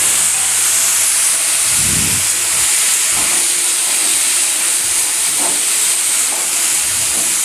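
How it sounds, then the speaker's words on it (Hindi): Boiled chickpeas frying in a pan for paneer chana masala, a loud continuous steamy hiss with a few low knocks and scrapes from tossing them around. "अब हम इसमें जो चने उबाल कर रखे थे उसको भी थोड़ी फ्राई कर लेंगे"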